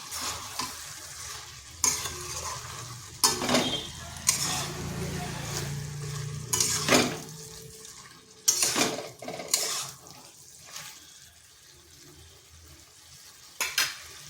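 Chicken cooking in a covered pot is stirred with a spoon, giving a low simmering sizzle broken by sharp scrapes and clinks against the metal, with quiet gaps between strokes.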